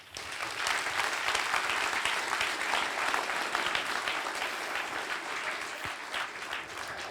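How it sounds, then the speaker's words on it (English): A lecture audience claps steadily in a room to welcome professor and journalist Jeff Jarvis, a sustained burst of applause lasting about seven seconds with no talk over it. "A warm hand of applause, please, for Mr. Jeff Jarvis."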